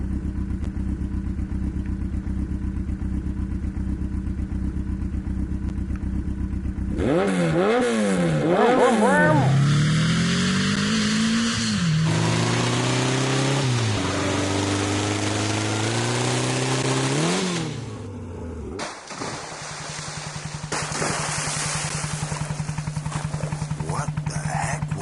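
A motorcycle in the video game Tomb Raider starts from idle, then revs hard with rising and falling engine whines and clatter, loud and close over a steady game background, before settling back to a low idle.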